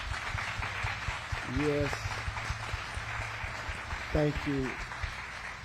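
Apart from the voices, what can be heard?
big round of applause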